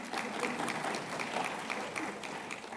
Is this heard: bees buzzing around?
no